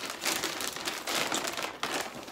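Tissue paper crinkles as a subscription package is unwrapped, a close, busy rustling of soft crumpling bursts with no talk.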